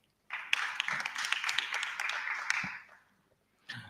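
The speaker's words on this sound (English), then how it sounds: "So you can clap for yourselves." Audience at a pitch fest innovation awards event claps together in a steady wash of applause for about two and a half seconds before fading out, moderately near.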